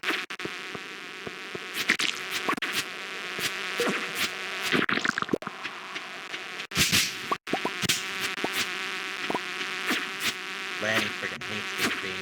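Bees in the Stardew Valley video game give off a persistent close buzzing drone, joined by irregular clicks and short noisy bursts throughout.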